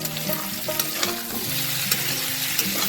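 Cauliflower and potato frying in a pan give a steady close sizzle, with clinks and scrapes of stirring scattered throughout, no talk.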